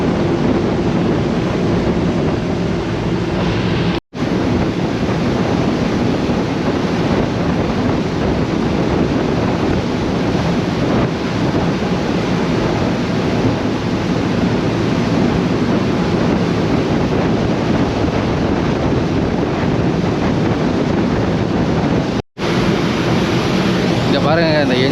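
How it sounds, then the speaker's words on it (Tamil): Diesel engine of a Cebu-to-Bohol ferry churning the sea, a loud steady roar of rushing water and engine rumble with wind buffeting, continuous and close, broken by two brief dropouts. "இந்த என்ஜின் எப்படி ஃபோர்ஸ் அடிக்கிறதுனால தண்ணி எப்படி பறக்குது பாருங்களேன்"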